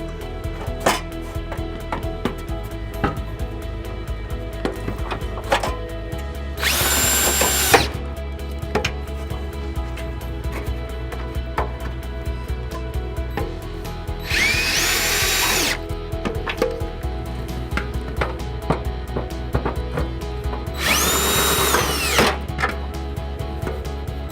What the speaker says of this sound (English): we're gonna use the 10mm socket on our drill to reinstall those nuts